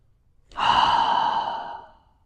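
A single deep, slow breath is drawn in and let out close by, swelling into a soft airy exhale that fades away, heard alone against silence during a hip mobility stretching routine.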